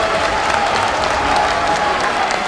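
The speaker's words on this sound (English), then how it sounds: "I don't know if they're cheering harder for Dominion or for the character" A tournament crowd at an Evo 2012 Super Street Fighter 4 Arcade Edition match cheers and applauds, a dense, loud, sustained roar of clapping and shouting that fills the hall without a break.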